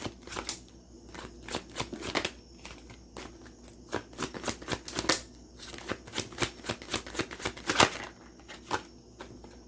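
Crisp riffling and snapping of tarot cards being shuffled in several quick bursts, close by, with brief pauses between.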